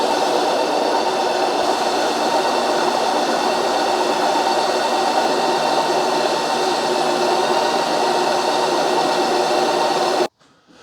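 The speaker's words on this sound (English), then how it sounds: "So it's going to run that paddle wheel down and chop up the cookie." A Ninja CREAMi ice cream maker runs its mix-in cycle, the paddle churning and chopping cookie pieces into the ice cream. It makes a loud, steady, close-up whirring roar for about ten seconds, then cuts off abruptly.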